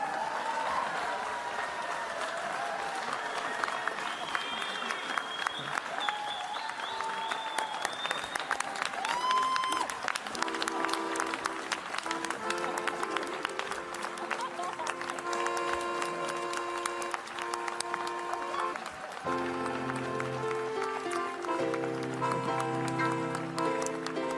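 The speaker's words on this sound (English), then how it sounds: "Feel free to applaud if you so choose." Lecture-hall audience applauding at the Ig Nobel Prize ceremony, a long sustained patter of many hands at fairly low level, with music-like tonal sounds rising underneath toward the end.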